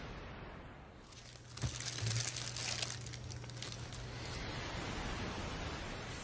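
A plastic bag crinkles as marijuana is smoked from it, a soft steady rustle that swells into a louder crackling burst before settling back to a quiet hiss, with no talking.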